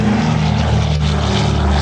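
A military version of the DC-3 propeller airplane at the Oshkosh airshow gives a loud, close, continuous droning engine roar that holds steady throughout, with a brief dip partway through.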